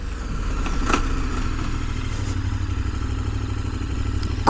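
A KTM 1050 Adventure motorcycle being ridden, its engine droning loud and steady throughout with a brief clattering knock near the start, no speech.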